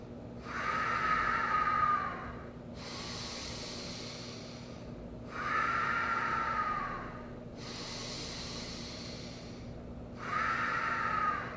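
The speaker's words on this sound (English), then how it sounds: "Just sit down and focus on deep belly breathing" Deep diaphragmatic belly breathing, slow and close: three long, airy inhales at an even, unhurried pace, with softer exhales between them.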